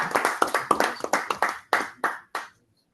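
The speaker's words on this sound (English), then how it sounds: "Please, let's put our hands together for her." Applause from a small online Toastmasters club meeting, about a dozen distinct hand claps in uneven rhythm, close and fairly loud, stopping abruptly after two and a half seconds.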